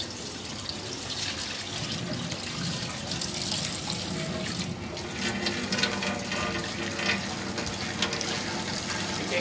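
A steady, continuous pouring of 20 kg of milk into a large cooking pot, a broad rushing liquid stream that keeps on without a break, close up and with no talk over it.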